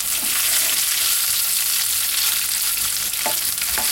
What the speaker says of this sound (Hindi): ये हमने कढ़ाई में थोड़ा सा ऑलिव ऑयल डाला है और अब इसे हम धीरे धीरे इसमें डाल देंगे। सारा ही पनीर सॉटे करने के लिए इसमें डाल देंगे।